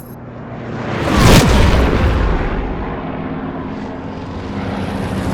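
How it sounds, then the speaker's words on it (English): A loud airplane roars past close by with a sharp booming cannon hit near its peak, then the engine rumble lingers and fades slowly. "there's a cannon hit in there just to give a little bit more of a cinematic feel"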